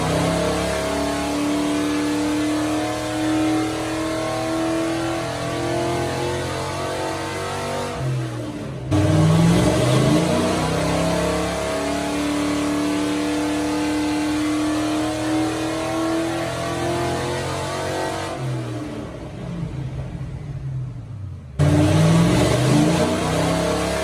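A Chevy Nova's V8 engine, fitted with a Holley Sniper fuel injection swap, revs loudly through three separate dyno-style pulls, each a sustained rising roar broken by short gaps.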